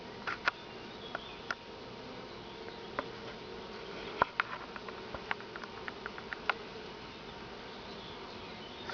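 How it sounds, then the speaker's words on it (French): Honeybees buzz around a hive in an apiary, a steady continuous drone with occasional close passes and soft ticks of bees, heard alone without talking. "je ne peux pas m'empêcher bien de filmer là l'activité que l'on a sur le rucher"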